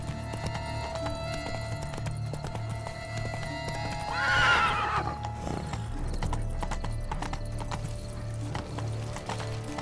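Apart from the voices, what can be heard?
horse hooves clip-clopping, from the video game The Witcher 3 Blood and Wine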